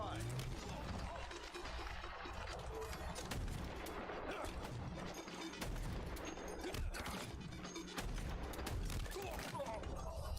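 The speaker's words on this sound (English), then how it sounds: "I have no words for the shotguns in this game." Shotgun blasts and gunfire in a video game crackle in rapid, overlapping bursts throughout, mixed with game effects and a continuous busy noise bed.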